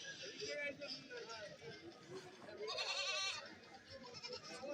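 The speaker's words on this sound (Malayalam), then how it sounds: "നല്ല വളർത്താൻ പറ്റിയ നല്ല മുട്ടനാട് അവിടെ നിൽപ്പുണ്ട്" Male goats bleat amid the crowd at a Kerala goat market, with cries rising over steady babble and nearby voices talking throughout.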